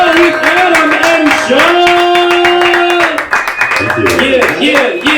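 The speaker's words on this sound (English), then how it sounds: "So, get the round of applause going." An audience at a late-night comedy show claps steadily throughout, the applause mixed under a loud voice and tonal sound.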